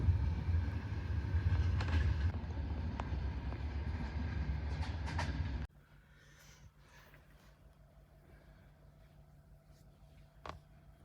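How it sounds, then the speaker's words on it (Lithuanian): A passenger train runs on the rails with a loud, steady rumble and clatter that drops sharply halfway through to a quiet hum, with one faint click near the end. "čia tai traukinys, tai bele kokio gerumo."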